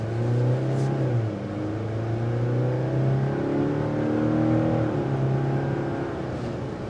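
A 2024 Mazda CX-90 PHEV Premium Plus plug-in hybrid SUV accelerates on a test drive, heard from inside the cabin as a steady engine drone whose pitch rises and shifts through gear changes over road noise, with no talking.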